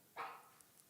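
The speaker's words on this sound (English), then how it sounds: "Sound like a bark." A single short dog bark sounds faintly and at a distance, a brief isolated burst in an otherwise quiet room.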